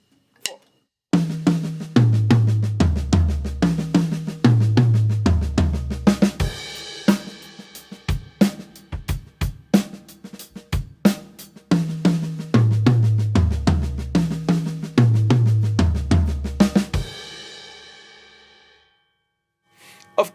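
A drum kit plays a 16th-note fill in groupings of five with right-left-left sticking, crisp repeated strokes and accented low drum hits in a driving pattern that cycles twice before ringing out and fading.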